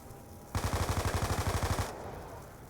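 A rapid burst of about sixteen close, evenly spaced automatic gunshots rings out for over a second in a shooter video game match, then fades into a quieter game background.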